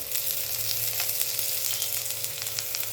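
Bitter gourd frying in oil over a medium gas flame, a close, continuous dense sizzle with a faint low hum beneath it and no pauses.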